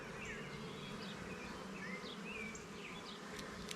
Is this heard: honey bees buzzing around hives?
yes